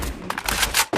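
Rapid gunfire from the Free Fire video game rattles in dense, loud bursts across the second, with a brief gap near the end before another shot.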